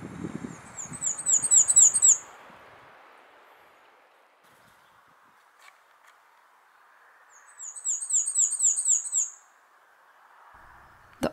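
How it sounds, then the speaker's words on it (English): A black-and-white warbler gives two thin, high-pitched wheezy song phrases of rapid repeated notes, each about two seconds long, well separated by quiet, heard clearly and alone. "The call of this striking little bird is a thin, high-pitched wheezy wheezy wheezy, like a squeaky wheelbarrow."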